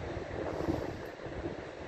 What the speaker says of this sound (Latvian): Vējš šodien.